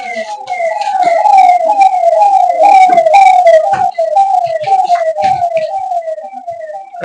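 A loud wailing ambulance siren sweeps up and down repeatedly and steadily as it passes, close and dominant, with no talk over it.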